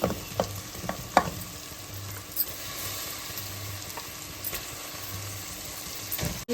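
Chicken leg pieces fry in a spicy masala, giving a steady close sizzle with occasional clicks and scrapes of stirring, moderately quiet and without talk.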